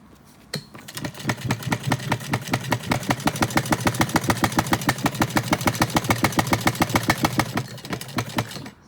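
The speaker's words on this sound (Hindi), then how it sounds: "तो हम अब करेंगे सिलाई, यानी कि इसको हम जोड़ेंगे" A sewing machine stitches cloth for a small Laddu Gopal dress, a fast regular mechanical clatter that starts with a click, runs steadily close up and slows to a stop.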